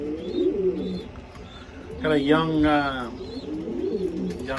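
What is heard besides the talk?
pigeons cooing in a loft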